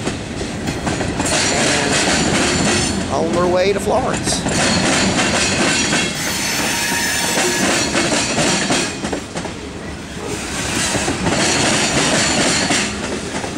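CSX freight train Q464 rolls past on the tracks in reverse through a crossover, a loud close rumble with steady clickety-clack of wheels and brief wheel squeals, while someone talks over it briefly.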